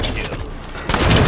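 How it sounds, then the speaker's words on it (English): Shotgun fire in the video game Halo 5: Guardians, a brief, loud burst of blasts in quick succession that ends abruptly. "Shotgun's doing work."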